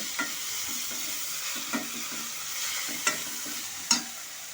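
Cabbage and fish head curry (murighonto) with garam masala being stirred over medium heat, soft sizzling under a few sharp spoon scrapes and taps against the pan, close and fairly quiet.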